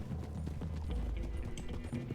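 A heavy draft horse clip-clops in Red Dead Redemption 2, a quick rhythmic string of hoof beats close up at moderate loudness with a faint voice behind.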